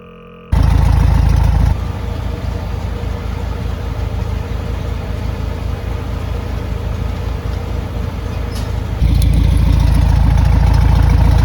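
A car engine idles loudly and steadily during an exhaust CO test measurement, a constant low rumble that shifts slightly in level partway through and then settles back.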